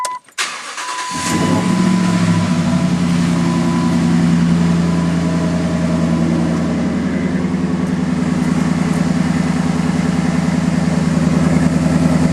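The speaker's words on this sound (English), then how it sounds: "I still cannot for the life of me figure out what kind of muffler this has, but it sounds damn good" A Dodge truck engine cranks over and settles into a deep, rumbling idle through its muffler that holds steady and loud, with a throaty exhaust tone.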